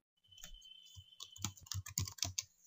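Quiet keystrokes on a computer keyboard, a short burst of separate clicks typed in an irregular rhythm, close by and alone.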